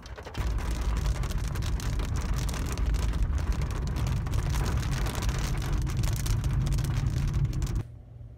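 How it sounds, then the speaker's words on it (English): A sudden, steady downpour of rain falls outdoors, a dense wash of drops that runs loud and unbroken for several seconds before cutting off abruptly. "It started raining out of nowhere."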